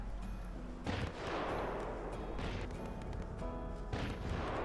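Video game fireworks at a police Christmas Eve roleplay event: loud bursts of explosive cracks and booms in a dense, continuous barrage, with blasts swelling around the one- and four-second marks.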